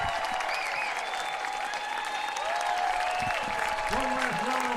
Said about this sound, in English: One last round of applause for the 2019 state champion Royals.